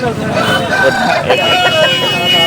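A rooster crows loudly and close by in one drawn-out call at a Sunday market in Nellore, over a steady noisy background.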